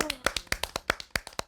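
A small group of hosts claps for one another, about a dozen crisp, distinct hand claps in a loose rhythm close by, with a brief voice at the start before the claps take over and then stop.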